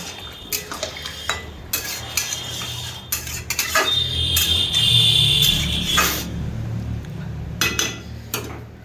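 A spoon stirs potato and eggplant curry in a metal pot after water is added, with repeated clanks and scrapes against the pot over a low bubbling simmer, close and loud with no voices.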